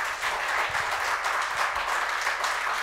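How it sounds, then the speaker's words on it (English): A crowd claps in steady, continuous applause that holds at an even level throughout, with no voices standing out. "A big round of applause to Devashish."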